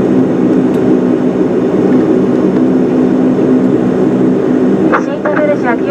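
A DHC8-Q400 turboprop rolls along the runway after landing, heard from inside the cabin as a loud, steady engine and propeller drone, with a brief voice near the end.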